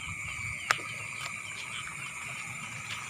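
Frogs croak at night in a continuous steady chorus, with one sharper, louder call near the start over a constant background hum.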